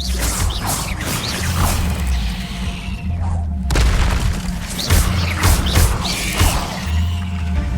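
Spell casting in the Hogwarts Legacy video game: a dense, continuous wash of magical booms, whooshes and crashing impacts over a low rumbling score, with repeated bursts throughout.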